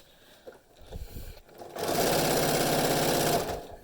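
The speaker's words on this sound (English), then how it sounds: "When I get to the bottom, I'm going to pivot, rotate, and sew up the other side." A sewing machine top-stitches a fabric face mask, starting with light handling sounds and then a steady, loud, rapid mechanical run of stitching lasting about two seconds before it stops.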